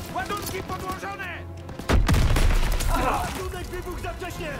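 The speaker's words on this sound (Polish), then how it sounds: "Ładunek wybuchł za wcześnie!" A loud explosion from a prematurely detonated charge bursts in midway in the video game Call of Duty: WWII, surrounded by rapid bursts of gunfire and chaotic battle noise, with shouting voices mixed underneath.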